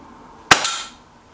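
Single sharp crack of a Gamo Arrow .22 air rifle firing a Wasp pellet, close and loud, with a short tail and a faint tick of the pellet striking the target a moment later.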